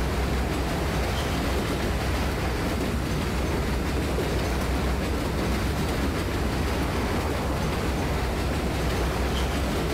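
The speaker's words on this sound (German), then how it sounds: "Auch wenn der Zug da meiner Meinung nach etwas langsam beschleunigt hat." Subway train accelerating in the World of Subways 4 simulator, a continuous loud rumbling roar with steady broadband rail noise filling the whole stretch, no talking.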